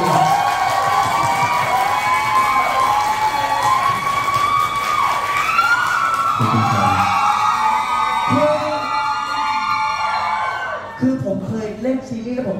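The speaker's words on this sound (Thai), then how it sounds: "ปรบมือให้เขาหน่อยครับ" A fan-event audience cheers and whoops loudly over a speaker's amplified voice. Shrill rising shouts and clapping carry on in a steady mass, then thin out near the end.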